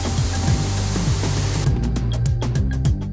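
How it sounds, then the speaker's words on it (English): Paint gun spraying base coat onto an Audi car body in a factory paint shop, a steady loud hiss with rhythmic mechanical pulses underneath. "The base coat is then sprayed on, providing the color."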